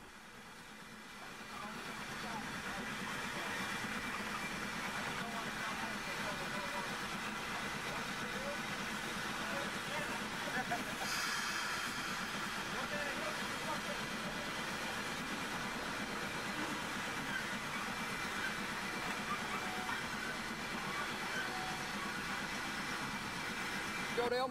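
A stopped steam locomotive idles with a steady, continuous hiss and low rumble that holds at an even level throughout, with voices talking nearby.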